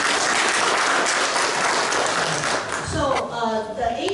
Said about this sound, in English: Let's give a round of applause for Clayton.